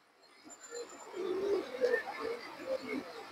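Pigeons coo in soft, repeated low murmurs close by among a flock of fancy breeds, with a faint background hiss and no talk.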